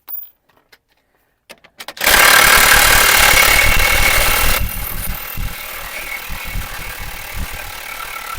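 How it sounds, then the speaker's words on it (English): A power tool runs loud and steady on a nut of a VW Transporter driveshaft, starting after a couple of seconds of near silence with light clicks, then dropping to a quieter continuous whir. "Let's undo this nut."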